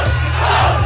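Crowd gathered around a rap battle shouting and yelling together, a loud, dense roar of voices that keeps up throughout the short moment.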